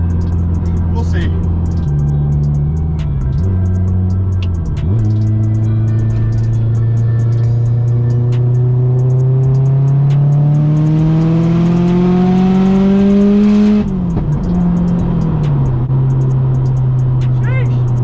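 A Mitsubishi Evo accelerates hard, the engine climbing steadily through the revs in a loud, close, continuous roar, then pausing for a gear change before pulling again, with a voice talking over it.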